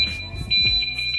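A Malaguti Madison 150 scooter's alarm sounds as a steady high electronic beep tone, fairly loud and close, running over low background rumble and knocks.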